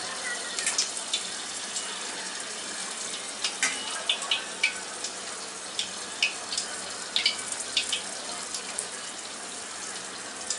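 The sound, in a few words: coriander leaf pakoras frying in oil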